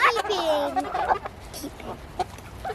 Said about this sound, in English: No, Emily, we'll keep yours because it's a hen.